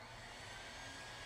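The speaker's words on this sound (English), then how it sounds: "And then a vacuum sound, and then you're heading back to your room." A vacuum-like whoosh from the adventure game Broken Age, a steady airy roar held at constant loudness for a brief moment with no voices.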